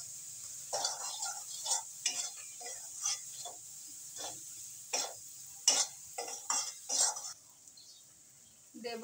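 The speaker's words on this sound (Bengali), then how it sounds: "1 চামচ কাশ্মীরি লঙ্কার গুঁড়া দিয়ে আর একটু ভেজে নিচ্ছি" Spices with Kashmiri chili powder fry for carp kaliya, and repeated scraping stir strokes and soft sizzling bursts come at an irregular rhythm, close and fairly quiet.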